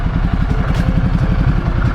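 A 2021 Indian Challenger motorcycle engine idles close by, a loud, steady low throb with a rapid, even pulse and some mechanical clatter, running continuously on its own without speech.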